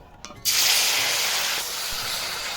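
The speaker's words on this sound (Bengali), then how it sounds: "এবার আমি একটা একটা করে মাছগুলো সব ভাজবো" Marinated fish pieces dropped into hot oil in a pan, bursting into a loud, steady hiss after a brief quiet moment, then sizzling on continuously and close by.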